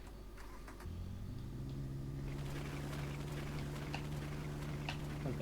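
Truck wheels slip and spin in The Long Drive video game, a steady engine-like drone rising after a short, quieter start and holding continuously near and fairly loud, with faint clicks scattered over it.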